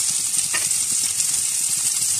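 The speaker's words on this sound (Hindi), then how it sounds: "यहाँ फ्राई पैन के अंदर 2 से 3 टेबलस्पून इसमें ऑयल डालेंगे।" Two to three tablespoons of oil heating in a frying pan for sautéing vegetables for chicken shashlik: a steady, even hiss and crackle, close and continuous, with no talking.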